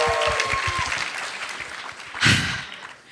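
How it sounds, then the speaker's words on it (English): Applause breaks out at a wedding reception, a dense crowd of hands clapping steadily in a lively hall, with a brief louder swell partway through before it starts to fade. "so round of applause to you guys"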